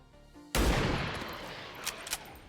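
Gunfire in the video game XCOM 2: one loud, sudden blast that rings out in a long, rumbling decay, followed by two short, sharper cracks near the end.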